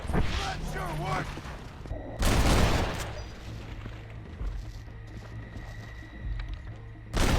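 Gunshots crack out in the video game Red Dead Redemption Undead Nightmare, two loud sharp blasts separated by a few seconds, with speech in between and a quieter background.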